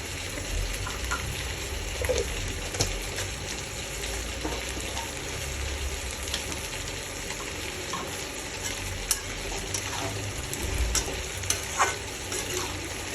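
Shukto curry with bori lentil dumplings and sugar being sautéed in a pan: a continuous sizzle with occasional clinks and scrapes from stirring, at moderate volume throughout.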